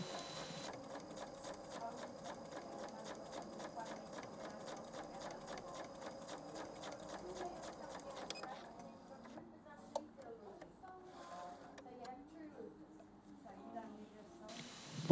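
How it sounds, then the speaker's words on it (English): A Janome Memory Craft 5200 sewing machine stitches through layers of denim in a fast, even run of needle ticks, then stops and gives way to fainter handling clicks and rustles, fairly close and moderately quiet. "This machine is so strong it can sew denim with ease."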